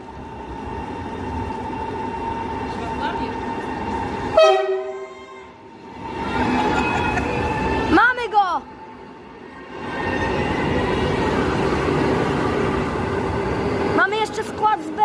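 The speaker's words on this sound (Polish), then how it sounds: "Machamy maszyniście w składzie Express Inter." A Vectron locomotive hauls an Express InterCity train past at close range, its loud rolling rumble broken by sharp horn blasts, while people talk over it.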